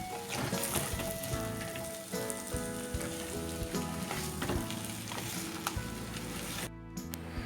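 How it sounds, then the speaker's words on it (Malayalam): Kerala-style crab roast masala with garam masala and black pepper is stirred in a sizzling pan: a dense, rain-like crackle of frying with repeated scraping strokes of the spoon, up close. "ഇനി ഇത് വീണ്ടും ഒന്ന് മിക്സ് ചെയ്തെടുക്കാം."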